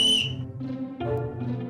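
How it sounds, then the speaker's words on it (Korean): An eerie whistle from the video game Trickcal Revive plays in short, breathy phrases that rise and fall, alone and fairly loud. "아까 들렸던 휘파람 소리?"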